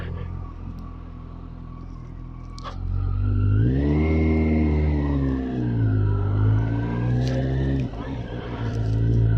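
Kawasaki GTR1400 touring motorcycle pulling away onto the road, its engine revving up and changing pitch through the gears, close and loud, with a steady idle before it sets off.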